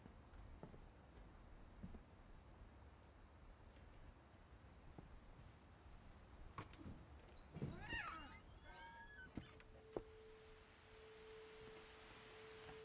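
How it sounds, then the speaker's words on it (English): A cat meows inside a video game, a couple of faint rising cries about two-thirds of the way through, followed by a steady electronic tone over a quiet hiss. "I hear a cat."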